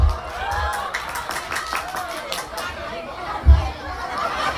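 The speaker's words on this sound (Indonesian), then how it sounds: "Tepuk tangan jeung bapak-bapak." Scattered clapping and chatter rise from a crowd of listeners at a Sundanese comedic sermon, with a sharper burst of applause near the end and voices murmuring underneath.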